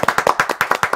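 An audience at a university intellectual property evaluation show claps in a brief burst of quick, closely spaced hand claps, loud and near.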